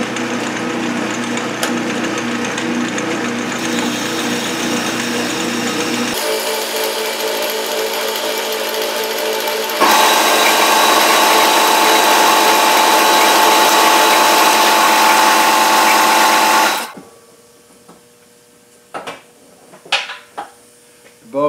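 A machine tool cuts metal under power feed while smoothing a surface, a loud steady whine that shifts pitch in stages, then cuts off to quieter clicks and knocks.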